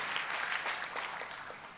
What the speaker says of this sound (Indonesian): Kita kasih tepuk tangannya, boleh yang paling meriah buat Tuhan.